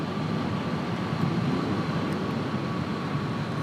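Boeing 2707 SST supersonic airliner in a flight simulator, its engines throttled back, giving a steady, dense roar that holds level for several seconds with no talk.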